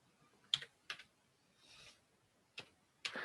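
Keys tapped on a computer keyboard while typing a ping command: a few sparse, crisp clicks separated by pauses, close and fairly quiet in a silent room.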